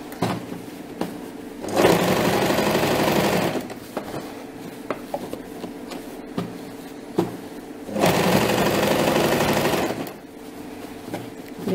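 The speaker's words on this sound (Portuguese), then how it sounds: "Faz um pesponto. O pesponto é uma costura aqui em cima." A sewing machine topstitches a skirt seam in two loud, close bursts of rapid whirring stitching, separated by quieter pauses with light clicks and handling.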